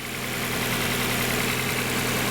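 A 1994 Mazda Miata engine idles steadily and close by, a constant low hum with a faint vibrating drone and no speech, after a bout of extended cranking, with fuel pressure reading a little below spec.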